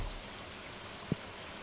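Steady, soft rain hiss in the Stardew Valley farming game, a faint continuous wash with one small tap partway through and no voices.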